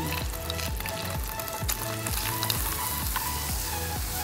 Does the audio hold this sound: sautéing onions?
yes